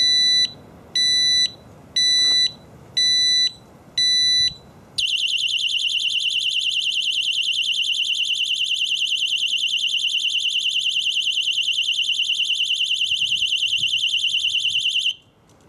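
A Xena XX10 disc lock alarm sounds in a run of short, shrill beeps, then switches to one long, continuous piercing tone that stops abruptly.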